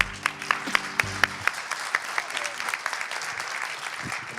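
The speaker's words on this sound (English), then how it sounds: "So, a big round of applause." A conference audience at PyCon Balkan 2018 gives a round of applause, a dense, steady crowd clapping that rises quickly and carries on for several seconds, with a low hum and faint talk underneath.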